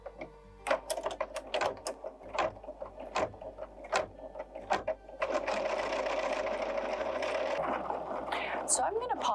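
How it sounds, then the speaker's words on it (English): A Bernina 770 sewing machine embroiders a flower design, first in a series of short stitching bursts and clicks, then in a continuous fast whir for several seconds. No one talks. "you go and you do your number 31, the flower. So you embroider your flower."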